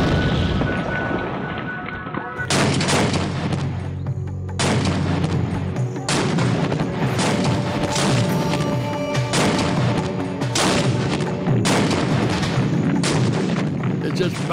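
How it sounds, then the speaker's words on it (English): A Bofors 40 millimeter gun firing shells at haystacks and houses during the World War II battle for Caen, a loud run of heavy booming shots in quick succession with rumbling echoes between them. "It's just bang, bang, bang, bang. 40 millimeter shell is powerful."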